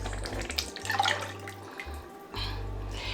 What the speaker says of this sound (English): I just need to add a little bit of water. And the water I'm adding is the rest of my stock.